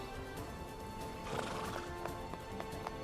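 A horse neighs in a loud whinny while hooves clip-clop steadily, set against a dense outdoor background with no talk.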